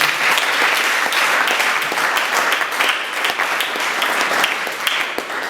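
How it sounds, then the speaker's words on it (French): A seated audience at a training session applauds committee members, steady dense clapping from many hands that stays loud throughout without speech. "on va applaudir pour eux"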